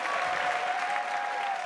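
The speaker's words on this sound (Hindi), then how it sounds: "एक बार फिर से जोरदार तालियों के बीच वीआईपी।" Dense, steady applause from a studio audience at a televised comedy competition show, a continuous loud wash of clapping throughout the brief moment with no talking.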